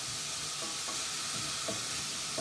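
Onions cooking gently on very low heat for a Tuscan bean stew give off a soft, steady sizzle and hiss, with a few faint scrapes of stirring.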